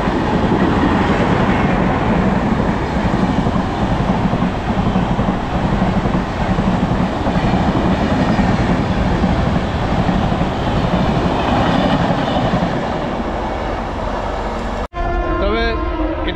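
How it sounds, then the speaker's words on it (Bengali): Vivek Express, the Dibrugarh–Kanyakumari long-distance train, rumbles loudly and steadily through Masagram station, its broadband roar sustained for about fifteen seconds before cutting off abruptly. "বিবেক এক্সপ্রেস বেরিয়ে গেল, বিবেক এক্সপ্রেস ডিব্রুগড় কন্যাকুমারী।"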